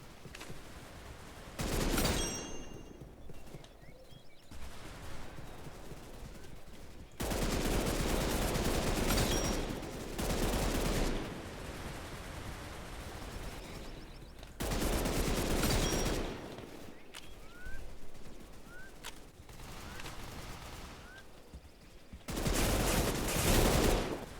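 Strange weapons fire in a video game, loud sustained bursts of rapid synthetic shots in several long volleys separated by quieter gaps.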